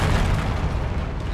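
A Bombardo spell blast in Hogwarts Legacy, one loud, deep, rumbling explosion that fills the whole moment and carries a heavy low-end roar, with no talking.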